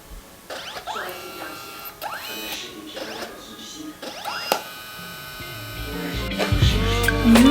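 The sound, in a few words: instant photo printer printing a photo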